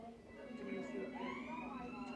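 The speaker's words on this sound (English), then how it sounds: "you can probably hear some of the sirens and ambulance just going past right now" Emergency vehicle sirens wail, rising and sweeping in pitch over a steady background hum at Westminster, London, with a voice murmuring faintly beneath.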